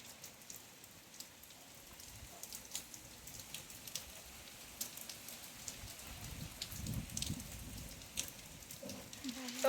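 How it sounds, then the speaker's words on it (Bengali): Rain falling outside a home during Cyclone Remal in Bengal, a steady soft patter with scattered drops that grows slightly heavier toward the end, heard from a little distance. "আবার বৃষ্টি শুরু হয়ে গেল"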